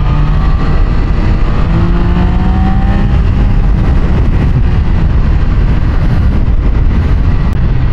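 A Triumph Daytona 660 motorcycle engine roars loud and close while riding, with rising and falling revs through gear changes over steady wind and road rush.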